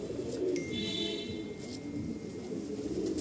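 A loft full of Andhra pigeons gives off a continuous soft cooing murmur from several birds at once, close and steady, with a short high whine early on.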